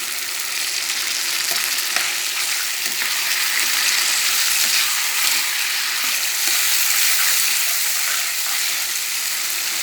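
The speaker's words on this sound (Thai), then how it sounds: "แคบหมูก็สุกแล้ว ก็ผัดให้มันได้ความร้อน" Steady loud sizzling of eggplant and crispy pork rind being stir-fried in a hot pan, continuous frying hiss with occasional scraping stirs, no voices.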